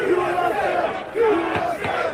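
Protesting students at a campus encampment cheer and shout as police arrive at night, a dense crowd roar with surging yells over about two seconds.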